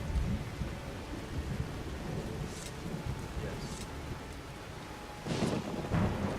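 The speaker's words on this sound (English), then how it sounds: "the lightning is loud" Thunder and rain in Skyrim: a constant loud downpour with deep rolling rumbles, sharper thunder cracks near the end, and a voice briefly heard under the storm.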